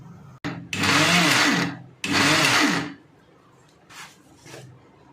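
A kitchen mixer grinder whirs loudly in two sustained bursts as chilli masala is ground, followed by a couple of short, quieter pulses.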